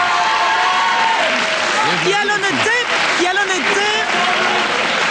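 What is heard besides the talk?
audience applause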